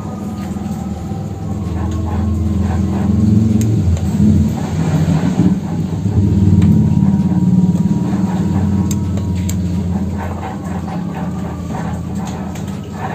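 Electric power steering rack in a car with its engine mounting removed, giving scattered knocking and clunking thuds over a steady low mechanical hum, fairly loud and close throughout.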